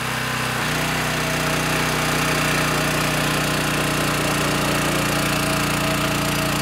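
A Zelda HVLS pump engine restarts and settles into a loud, steady running drone, with a shift in pitch just after starting and continuous throbbing outdoors.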